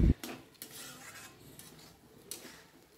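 Potatoes with spices are stirred in a pan for aloo matar paneer, with quiet scraping and light clinks of a spoon against the pan and a soft sizzle underneath.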